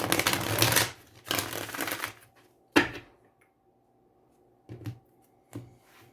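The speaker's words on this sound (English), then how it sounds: "so I've shuffled this like 20 times." Tarot cards being shuffled close up, two long riffling bursts followed by a few short sharp taps and snaps as the deck is squared, with quiet gaps between.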